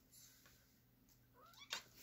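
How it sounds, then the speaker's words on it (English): A cat gives a short, faint mew near the end, a brief rising cry over quiet room hum, with no one talking. "she didn't mew until I touched her"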